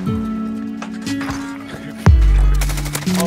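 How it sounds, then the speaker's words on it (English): Sniper fire in Call of Duty Warzone cracks as scattered sharp shots over a steady droning in-game hum, with one loud, deep booming impact partway through. "Oh guys, we're getting sniped at."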